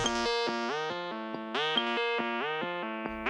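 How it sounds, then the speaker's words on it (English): A bright, buzzy modular synthesizer plays a stepping sequence of tones with a sweeping filtered edge, a faint reverb tail trailing each note. "This is a filter, and I'm going to add a little bit of a modulator reverb."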